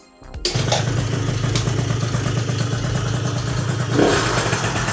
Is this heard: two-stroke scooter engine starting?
yes